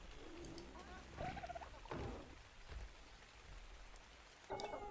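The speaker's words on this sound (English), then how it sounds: "Oh no, it's raining." Rain falls in the survival game ARK: Survival Evolved as a steady soft patter with faint crackling drops, alone with no talking, a few brief louder bursts breaking through.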